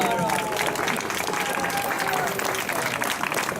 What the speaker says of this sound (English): all of you to stand up and give them a resounding applause